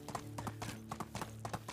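Horse hooves in a Medieval Dynasty video game, a clear rhythmic clip-clop of repeated hoofbeats at a steady walking pace, fairly close and alone.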